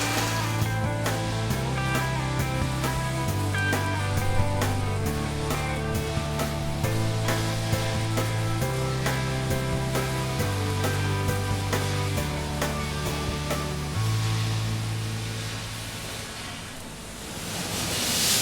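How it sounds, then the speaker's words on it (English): Robot welders joining bull bar components in a factory, giving a steady, loud hissing crackle that runs continuously beneath a repeating low droning tone, with no voices, fading slightly near the end. "These robot welders are amazing."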